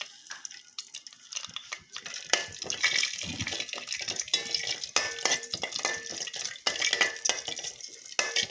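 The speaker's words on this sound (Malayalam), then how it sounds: "നെയ്യ് നല്ലതുപോലെ ഒന്ന് ചൂടായതിന് ശേഷം നമുക്കതിലേക്ക് കാഷ്യൂ നട്ട് ഇട്ട് കൊടുക്കാം." Cashew nuts fry in hot ghee in a pan, giving an irregular crackling, sizzling patter with small stirring clatters, fairly soft and close, with no talk.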